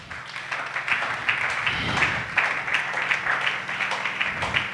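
A church congregation at a Sunday worship service claps steadily, a dense, moderately loud patter of many hands over a low background hum.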